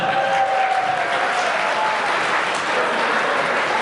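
Wedding guests in a hall at Centum Science Park in Busan applaud the groom with thick, continuous clapping that stays loud and steady throughout, blended with faint crowd murmur.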